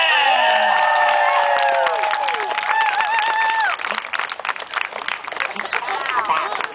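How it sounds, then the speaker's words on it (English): A crowd at an Edmonton summer street show for performer Gustavo the Impossibilist claps and cheers, with high whoops and whistles riding over loud, steady applause that continues throughout. "Let's have a big round of applause for the one,"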